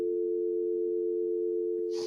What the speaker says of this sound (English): Do you hear a dial tone?